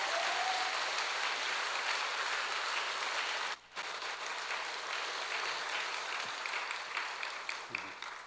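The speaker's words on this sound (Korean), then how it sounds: "목사 설교하러 올라오니까 아주 힘차게 박수로 환영을 해주는데" A church congregation in Mokpo claps loudly and steadily to welcome the pastor as he comes up to preach, a dense sustained ovation with one brief dip partway through.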